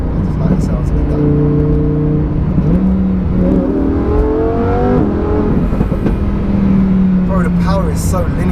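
A naturally aspirated 640 bhp Lamborghini Huracán Performante engine revs and climbs in pitch, loud and close, with voices talking over the roar.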